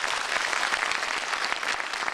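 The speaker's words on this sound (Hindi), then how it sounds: "आप सबके लिए जोरदार तालियां" Audience at a company seminar in Chandigarh breaks into steady, loud applause, a dense wash of clapping that carries evenly through the whole moment with no voices on top.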